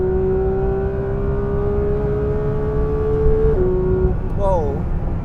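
A new Porsche 911 GT3 at full throttle on a quarter-mile drag run, its engine holding a strong, steady high wail and dropping pitch at a gear change before climbing again.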